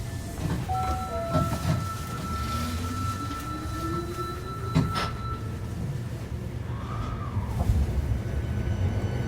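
An Osaka Metro Sakaisuji Line 1300 series train with Toyo IGBT traction equipment pulls away, its motor whine rising in pitch over a steady low rumble of the running car, with brief clanks and squeals.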